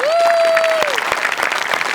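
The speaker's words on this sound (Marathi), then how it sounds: "एकदा जोरदार टाळ्या होऊन जाऊ दे" Applause from a Marathi comedy show audience, a dense steady clatter of clapping filling the clip, with a sustained musical tone sounding over it in the opening second.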